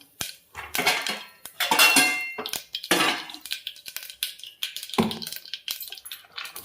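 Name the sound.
mustard seeds spluttering in pan, cumin added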